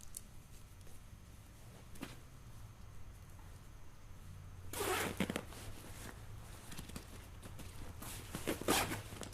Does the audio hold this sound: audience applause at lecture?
no